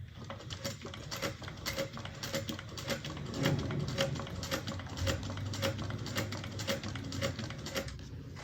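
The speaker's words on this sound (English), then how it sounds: "Just a couple of stitches forward and back." A sewing machine back stitches a few stitches forward and back on a handmade bag, giving a close, steady train of rapid mechanical ticks and clatter throughout.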